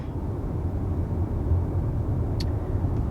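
A 2022 Audi Q5 rolls along a rough road, a steady low interior rumble of tyres and suspension with a faint brief knock near the end, no talking.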